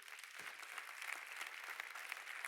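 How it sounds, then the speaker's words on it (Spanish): Church congregation applauding the Lord during a sermon, a short burst of steady clapping heard faintly, as if at some distance, with no voices over it. "Dele un aplauso al Señor."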